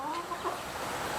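Chickens and a rooster call on a morning farm, thin rising crows and clucks set against a steady background hum, moderately distant and fairly faint.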